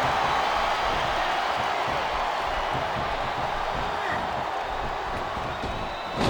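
A steady, dense arena crowd roars and cheers without a break during a battle royal wrestling match in the WWE SmackDown vs Raw 2007 video game, with faint claps and whoops in the wash.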